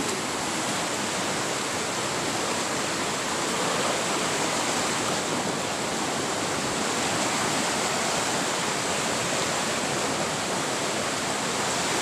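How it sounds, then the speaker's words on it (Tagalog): Strong rushing water of the Sungduan River in Eastern Samar, a steady, broad, loud roar of churning flow that runs unbroken throughout with no voices. "Tingnan nyo po ang lakas ng alon."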